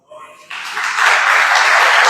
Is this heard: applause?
yes